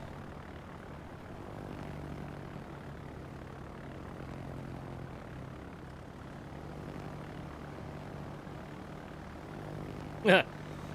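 Propeller aircraft engines drone steadily throughout a World of Warships naval battle, a continuous low hum with a brief louder burst near the end.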